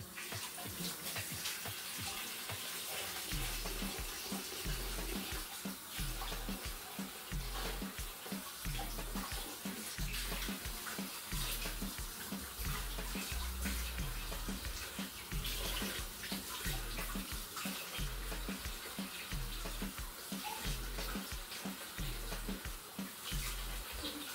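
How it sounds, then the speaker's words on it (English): Hands being washed under a running kitchen tap after mixing gingerbread cookie dough, a steady rushing stream of water with splashing as the hands move. Continuous and close throughout, with no speech. "Now, hands a quick wash."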